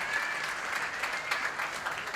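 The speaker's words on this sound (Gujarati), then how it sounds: "વધાવો તાળીઓથી." Audience applause at a Gujarati comedy and folk literature event in Mumbai, a steady burst of clapping from a seated crowd throughout.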